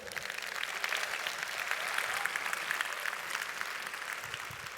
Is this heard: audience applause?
yes